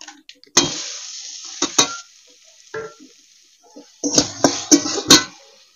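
Torn green chillies, chopped onion and tomato hitting hot oil with whole cumin in a pan for a gima saak vorta, sharp sizzling bursts and stirring scrapes between quieter gaps, close and loud.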